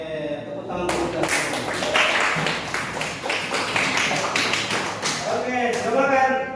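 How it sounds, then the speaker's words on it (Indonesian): Children in a classroom clap their hands together in a dense, steady burst lasting several seconds, with a teacher's voice briefly heard at the start and end. "Oke, tepuk tangan dulu"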